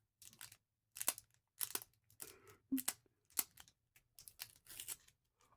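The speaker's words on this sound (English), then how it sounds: "Keep forgetting to remove the damn stickers before the start of these videos." A sticker being peeled off a trading card: close, crinkly tearing in short repeated bursts separated by brief silences, quiet and with no talking.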